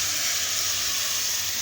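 Spice paste with turmeric and chili poured into a hot pan with prawn heads for a Bengali prawn-head and lotus-stolon dish, giving a strong continuous sizzle and hiss with no talking.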